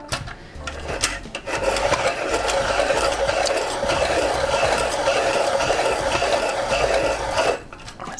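A pencil sharpener grinds a pastel pencil in a steady buzzing whirr for several seconds, starting and stopping abruptly; close and fairly loud, with no talking.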